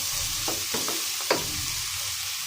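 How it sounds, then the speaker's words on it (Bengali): Coriander leaves being stirred into snake gourd frying in a pan, with steady soft sizzling and several scraping strokes of a spatula, one a little sharper, with no talking. "ধনিয়া পাতাটা মিশিয়ে নেব চিচিঙ্গাটার সাথে"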